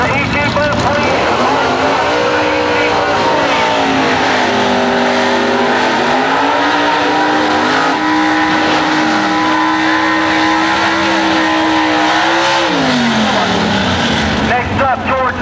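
Pro Mod drag race cars at an early-2000s IHRA event in Farmington roar loudly and continuously, the engine pitch rising and shifting over a long run, while an announcer talks through the noise.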